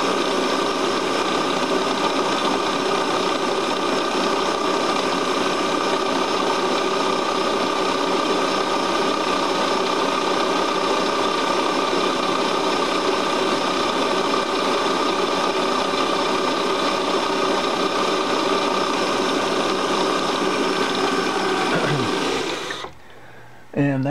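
A small milling machine spins steadily while cutting a flat onto a mandrel, giving a continuous loud whirring, grinding drone that holds for about twenty-two seconds before winding down abruptly near the end.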